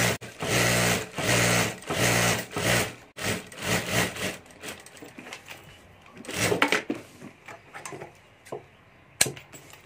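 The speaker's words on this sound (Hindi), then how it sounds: "तो इस तरह से यहाँ ऊपर सिलाई करके नीचे का अस्तर में अटैच कर देना है।" A sewing machine stitches the lining of a homemade lunch box, loud and close, running in quick rhythmic bursts at first, then slowing into scattered short runs and clicks.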